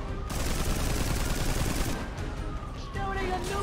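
Rapid gunfire and machine-gun bursts from the game GTA crackle continuously and loudly over game noise, with a brief dip before firing resumes.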